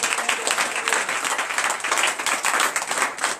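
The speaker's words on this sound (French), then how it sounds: "acclamations." A congregation at a French-language evening church service claps in brisk, dense applause, close and steady throughout with no talk over it.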